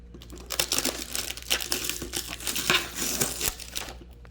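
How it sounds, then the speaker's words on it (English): Crinkly plastic wrapping peeled and crumpled off a potted peanut butter fruit tree packed with a warm pack, a steady close rustle with sharper crackles throughout. "wrapped in all this plastic. Let me unwrap this"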